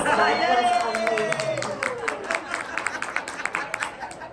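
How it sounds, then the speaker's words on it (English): Scattered, fairly loud clapping from a small group follows a brief falling whistle-like tone, with sharp claps continuing steadily to the end. "A round of applause."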